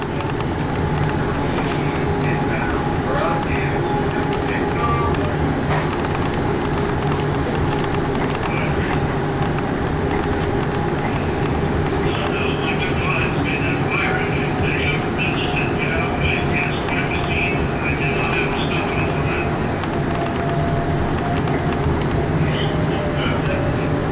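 Inside a Tacoma Link light rail Brookville Liberty NXT streetcar, number 2002, a steady rolling rumble and hum of the ride carries on without a break, with faint tonal whines above it.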